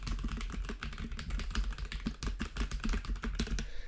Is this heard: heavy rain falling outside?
no